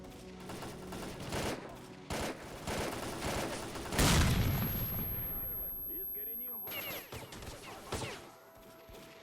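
Video game gunfire crackles in rapid bursts from an automatic weapon, sustained volleys with a heavier blast midway and a ringing tone after, while voices talk over the shooting.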